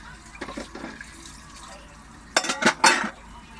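Dishes washed under running water at home: a faint tap stream with scattered clinks of plates and cutlery, then a louder burst of splashing and clattering near the end.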